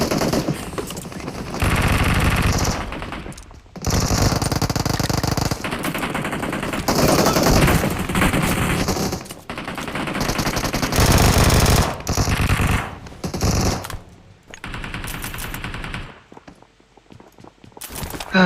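PUBG Mobile esports gunfire rattles in long, dense automatic bursts, loud and near, broken by brief pauses over nearly twenty seconds of continuous combat noise.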